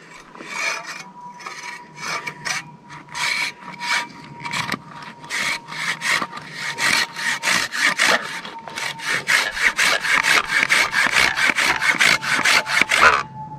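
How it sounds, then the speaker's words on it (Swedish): Hand saw with large teeth cutting damp firewood, a long run of steady back-and-forth rasping strokes that quicken and grow louder toward the end, close up with no talk. "Det gäller att jag inte sågar i sten eller någonting här."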